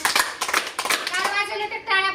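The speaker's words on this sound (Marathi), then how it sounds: "आता तीन टाळ्या वाजवा बरं अजून तीन वाजवा" Young children at a pre-school readiness session clap in short, sharp bursts, a few separate claps close by, with a voice and talk mixed in over the last part.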